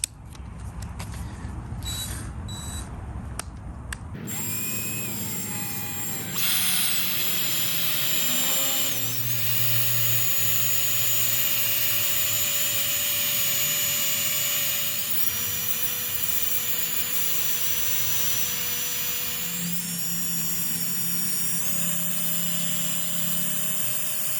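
A drill fitted with a wire brush scrubs rust from an iron plant stand, a sustained loud whirring grind with shifting pitch as pressure changes, briefly starting and stopping early on, then running nearly continuously.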